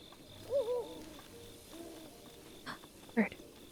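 Wood pigeon cooing in the video game Zelda: Breath of the Wild, a few soft, low hooting coos heard faintly under quiet game ambience, with a brief louder burst near the end.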